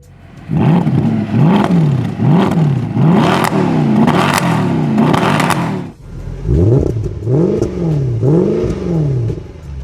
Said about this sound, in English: When it comes to exhaust sound, it's better on the W212 without a question.